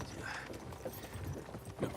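Horses walk in the video game Kingdom Come Deliverance 2, with soft, steady hoof clip-clops under faint background sound and possible low voices.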